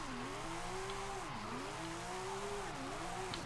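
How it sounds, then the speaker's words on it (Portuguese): In the racing game Forza Horizon 5, a Porsche 911 Carrera S drifts with its engine droning and rising and falling in pitch over a steady tire roar, sounding loud and continuous with no talk. "Fazer drift neste jogo é muito da hora."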